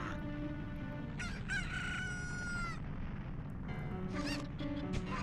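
A rooster crows repeatedly in a modded Zelda N64 game, loud drawn-out crowing with clucks, over a constant game-music background.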